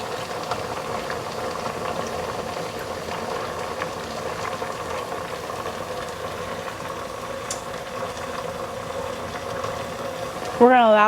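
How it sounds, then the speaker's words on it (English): Mustard sauce made with Grey Poupon simmering in a pan, a steady soft bubbling hiss that runs on evenly, ending with a brief louder clatter. "We're going to allow this to simmer for 3 to 5 minutes or till it thickens a little bit."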